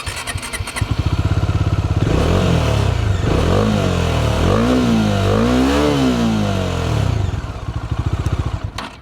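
Bajaj Dominar 400 motorcycle engine idles with a thumping beat, then revs up hard several times in rising and falling sweeps before settling back to a throbbing idle, loud and close with no talk.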